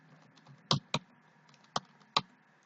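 Four sharp, separate keystrokes on a computer keyboard, entering a username and password into a C# program, clicking out at an uneven pace over a faint steady hum.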